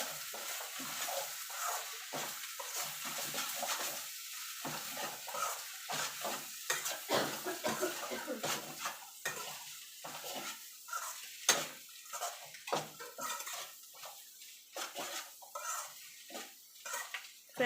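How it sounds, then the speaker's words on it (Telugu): Egg bhurji fries in a pan while a utensil stirs and scrapes it, with irregular clinks and scrapes over a soft, continuous sizzle, quiet and close, with no talking. "ఇదిగోండి కొద్దిగా ఫ్రై అవ్వాలన్నమాట"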